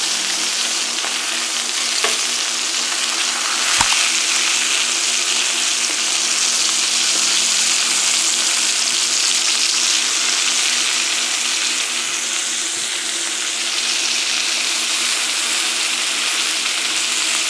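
Chicken fries in a pan with a steady, loud broadband sizzle, and a couple of brief clacks come as the pieces are turned over, with no talking. The chicken is for chicken burgers.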